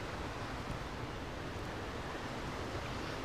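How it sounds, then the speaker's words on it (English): The Nairobi River flows past Memorial Park in Nairobi, Kenya, a dense, steady broadband rush of moving water filling the moment without a break, fairly loud and alone. "So, still, this is Nairobi River"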